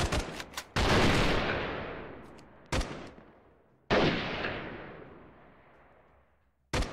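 Gunfire in a shooter game: a few sharp, loud shots, each followed by a long rolling echo that fades over a couple of seconds, with a final crack at the end.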